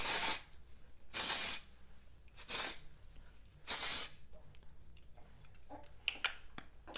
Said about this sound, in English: spray at my root, and that immediately absorbs that oil